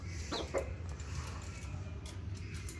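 Chickens cluck softly in a coop of young stag roosters, with a few short calls standing out over a steady low farmyard rumble.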